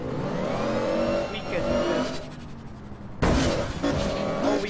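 A car driving in the online game APB Reloaded, its engine revving and accelerating with abrupt loud bursts and cutoffs, layered under a player's chatter.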